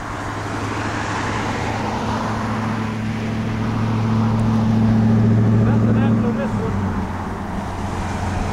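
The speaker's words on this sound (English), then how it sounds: "There's a Porsche coming up." A Porsche sports car drives past on an outdoor road, its engine drone swelling to a peak midway and then fading as it moves away, with faint voices in the background.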